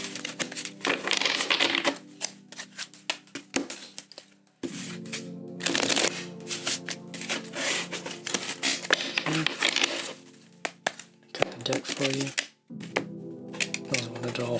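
Tarot cards shuffled by hand in a rapid, riffling patter of papery flicks and taps, fairly close and continuous with brief pauses, no talking.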